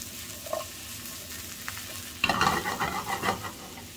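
Mushrooms sizzle in olive oil in a pan, a quiet hiss at first, then a spatula starts stirring and brings a burst of louder scraping and crackling sizzle.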